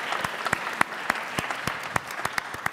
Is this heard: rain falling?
no